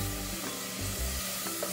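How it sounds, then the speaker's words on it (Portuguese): Garlic frying in a pan for a savoury sauté, a steady close sizzle with occasional stirring scrapes, heard alone without talk. "Não sei se vai dar pra vocês me ouvir por causa do barulho da fritando"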